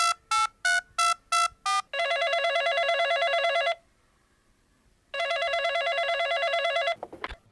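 A phone rings electronically: a quick series of short beeps, then two long warbling rings separated by a pause, loud and close.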